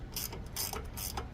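A ratchet wrench clicks in short bursts while loosening a bolt during drive belt removal on a Classen TR20-K power rake, the pawl ticks close and crisp.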